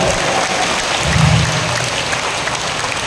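A congregation at a holiness sermon in Batangas claps in a continuous, even patter, swelling slightly near the middle before settling back to a steady level.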